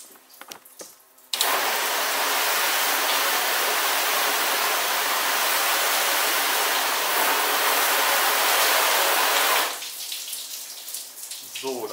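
Water from a hose or tap rinses off Nextzett label remover, a loud, steady hiss that runs for about eight seconds and then stops abruptly, with faint clatter before and after.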